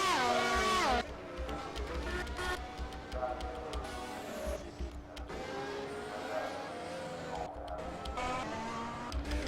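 A race car at Abu Dhabi, likely sim racing, engine revving and changing gears through a lap, with rising and falling engine whines and tire noise heard steadily and fairly close.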